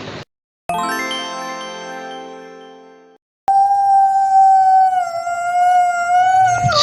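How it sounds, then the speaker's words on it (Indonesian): A wolf (Canis lupus) howls in long, sustained tones, loud and close, with a break of silence partway through and no talk. "Serigala atau sebutan nama Latin Canis lupus."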